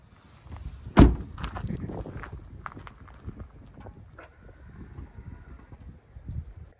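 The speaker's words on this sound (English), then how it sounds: "we'll go ahead and open the door again" A car door being opened during a winter test of a Boost Auto M2 Lumastep powered running board, one sharp clunk near the start followed by quieter rustles and footsteps.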